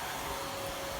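A vacuum cleaner runs indoors in a house under construction, giving a steady, loud, unbroken whine with no pauses.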